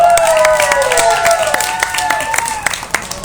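An audience at a county fair beef show awards ceremony claps and cheers steadily for award winners, with sharp individual claps and excited shouts and whistles over a continuous wash of applause.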